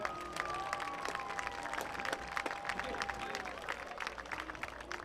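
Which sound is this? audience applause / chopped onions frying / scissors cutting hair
audience applause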